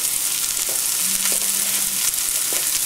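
Food sizzles steadily in a very hot pan while beef burgers are made, a dense, continuous hiss with faint clicks and a brief tonal hum in the middle, no voices.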